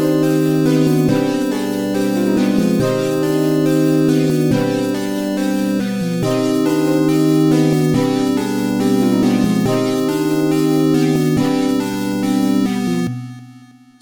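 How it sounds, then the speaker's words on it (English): Trap beat melody: a looping, catchy synth line over sustained bass, steady and full for about thirteen seconds before cutting off abruptly to silence. "My whole melody will sound like this."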